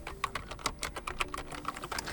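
Rapid, close keystrokes clatter on a computer keyboard in an even burst of clicks while a search for Samsung drivers is entered, with no talking.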